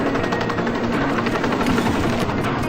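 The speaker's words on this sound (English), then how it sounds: "Shimura's got a chopper outside waiting for you." A helicopter hovers in a Tomb Raider Legend cutscene on the Nintendo DS, giving a steady, loud rotor drone for a few seconds with no voices.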